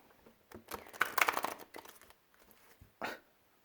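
A deck of playing cards being shuffled by hand, a short riffle burst of quick crackling flicks in the middle followed by a single fainter snap, close and quiet with no talking.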